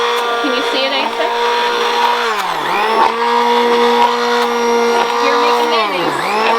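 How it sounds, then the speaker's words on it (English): Loud whirring blender motor running continuously while making mayonnaise, its pitch dipping and rising as the load changes, close by. "Now bring your blender up just a little bit as you do that."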